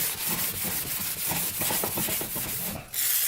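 A rag rubs WD-40 over plastic parts on a Yamaha Warrior ATV, a rapid, rhythmic scrubbing swish up close, continuous for about three seconds before a brief pause and a louder rustle.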